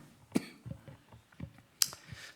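A preacher in a church sermon coughs sharply a few times, dry bursts at close range separated by quiet breaths and small clicks.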